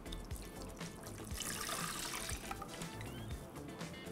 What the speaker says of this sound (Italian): Ora è il momento di aggiungere il latte caldo.